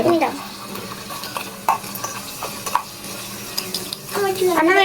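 Egg and chicken fry in a pan in a small home kitchen, with close sizzling, spatula scrapes and clinks against the pan, and a voice talking briefly near the end.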